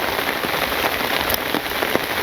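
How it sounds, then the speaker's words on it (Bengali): Steady rain falls in a village on a wet day and patters on surfaces close by, an even, dense hiss dotted with brief louder drips. "আজকে আবার ভালো রকম বৃষ্টি হইতেছে।"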